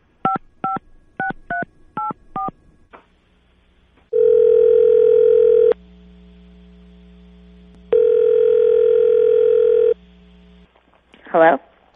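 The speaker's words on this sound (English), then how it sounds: "I'm going to put you on hold. I'll conference her in." Telephone keypad tones beep in a quick series, then two long steady dial-tone stretches separated by a low hum, ending with a brief ring while a call is being conferenced in.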